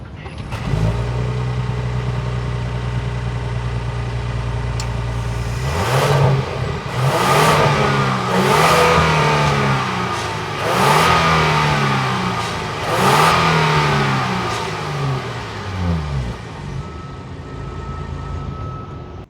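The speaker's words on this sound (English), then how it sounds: "let's take a listen to the exhaust" A Genesis G90 3.5-litre twin-turbo V6 idles, then revs hard several times in quick bursts through its exhaust, each rising and falling, before settling back to a steady idle; loud and close, with no talking.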